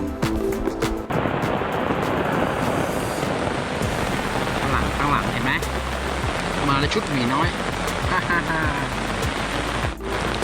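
Steady heavy rain pours onto tents at a hillside campsite, a dense continuous hiss throughout, with people talking and laughing over it.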